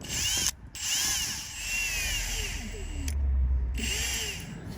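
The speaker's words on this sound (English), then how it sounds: "I'm going to put it in the drill and twist it and then force it backwards and forwards" Power drill spinning an old motorbike cable inside a blocked pipe on a Renault Scenic 1.5 dCi, a steady close mechanical whir with rattling and a couple of brief stops, no talking.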